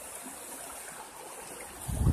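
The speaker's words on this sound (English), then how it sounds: "today, we're down at that creek that was at the bottom of the hill" Water flows in a creek at the bottom of a hill, a steady soft rush that stays even and fairly faint, with a low rumble swelling near the end.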